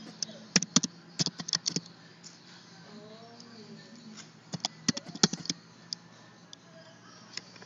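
Patient data typed on a computer keyboard: bursts of quick key clicks in uneven clusters, close and crisp, separated by quiet pauses, with faint talk in the background.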